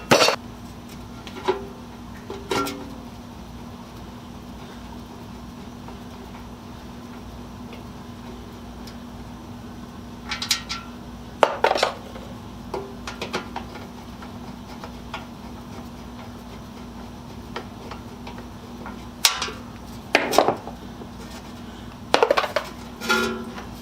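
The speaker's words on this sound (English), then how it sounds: "I'm putting all the screws and bits and pieces in that box" Screws and small metal parts from a furnace recirculation blower clink and rattle into a box, sporadic short metallic taps and small clusters scattered over a steady low hum, with long quiet gaps and no talking.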